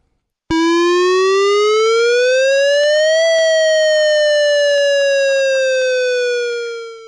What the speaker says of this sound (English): So one more time, here's the warning siren.